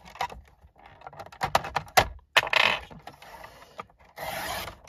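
An A4 sheet of kraft paper is cut, producing a series of close, crisp scraping and snipping sounds in irregular bursts, ending with a longer rasping cut.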